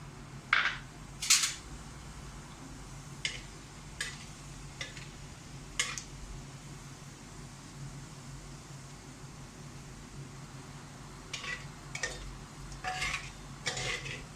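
Whole spices spluttering in hot oil while cooking chicken pulao, a soft steady sizzle punctuated by scattered sharp pops and crackles, a few louder ones early and a cluster near the end.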